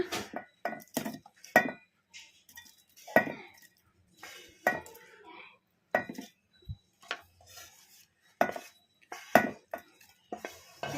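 Fried tomatoes, onions and green chillies go into a steel mixer jar in a home kitchen, a string of sharp clinks and knocks of a spoon against metal, close and fairly quiet, with brief pauses between strikes.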